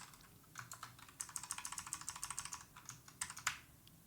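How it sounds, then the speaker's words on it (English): Typing on a computer keyboard while writing C++ code: quick bursts of light clicking keystrokes in an uneven rhythm, close but fairly quiet, with a short pause between runs and no speech. "Can I type here, please?"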